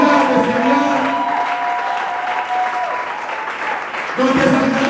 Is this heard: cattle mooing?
no